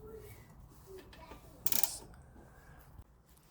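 A wrench works loose a tight bolt up top near the tie rod bushing on a rough 2000 Honda 400EX ATV, giving a short, brief burst of ratcheting clicks midway through an otherwise quiet stretch of low background noise.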